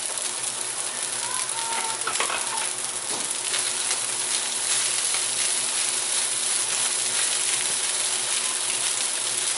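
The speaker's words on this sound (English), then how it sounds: "here's my broccoli." Broccoli is stirred into shrimp fried rice in a hot pan, giving a steady, bright sizzle with a few scraping stir strokes near the start, close and continuous with no talk.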